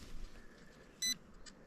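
A metal detector gives one short electronic beep over a target in a forest, clear but brief against a quiet outdoor background.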